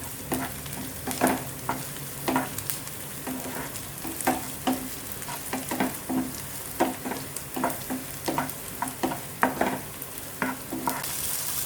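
Ginger and garlic sizzle in a pan for palak paneer while a spoon scrapes and stirs in irregular strokes, crackling frying noise close up with no voices.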